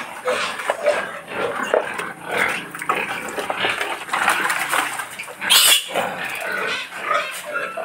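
Piglets on a pig farm eating eagerly at feeding time, a close cluster of wet slurping, snuffling and small grunts that rises and falls continuously, with a sharper squeal burst near the end and no talk.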